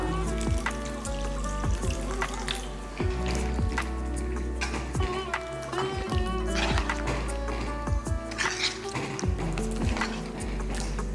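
Water trickles and splashes continuously into a cooking pot of soya and brinjal curry, with intermittent drips and wet knocks, steady and moderately close, no voices.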